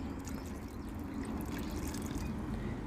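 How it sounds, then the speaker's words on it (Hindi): Water filling a flower pot and draining out through the bottom hole, a faint, continuous trickling and dribbling with small scattered drips, close by and without speech. "ये देखिए मैंने पूरा पॉट को फिल कर दिए है।"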